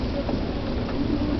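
Hail pours down hard during a storm, a dense, steady roaring hiss of stones striking surfaces that fills the whole stretch without letting up.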